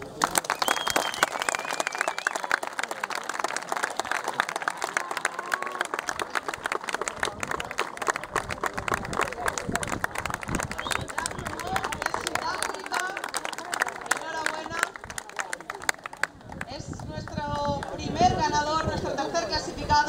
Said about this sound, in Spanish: un fuerte aplauso para nuestro tercer clasificado, Jasper Mock